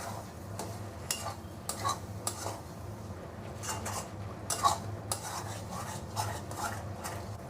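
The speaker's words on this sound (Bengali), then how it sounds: "মশলাগুলো এবার ভালো করে একসাথে কষিয়ে নেব।" Ground cumin, chili and coriander are sautéed in a pan, heard as repeated close scraping and clinking of a spoon against the metal over a faint sizzle, steady rhythmic stirring with no talk.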